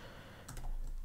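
Computer keyboard typing code during a Laravel programming session, a short run of soft close key clicks over quiet room tone, with a brief burst of keystrokes near the middle.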